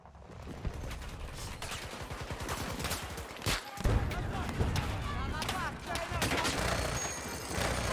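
Dense gunfire in the shooter game Battlefield 2042: rapid overlapping shots and bursts crackle nonstop at close range, with sharper impacts in the middle and indistinct voices mixed underneath.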